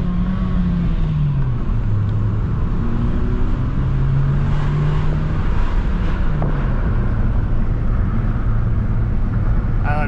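A manual car accelerates away from a stoplight, its engine note rising through a gear and dropping at a shift, then climbing again under heavy, constant road and cabin rumble close to the microphone.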